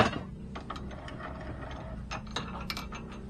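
A universal bench vise is cranked tight, giving a rapid string of mechanical ratcheting clicks and gear-like rattles at moderate volume, with a few sharper metallic ticks toward the end.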